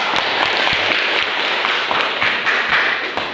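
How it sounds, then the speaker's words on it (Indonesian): Applause for a student in a madrasah classroom, a group of pupils clapping steadily and fairly close, with scattered sharper claps standing out over the dense patter. "Tepuk tangan buat Laura"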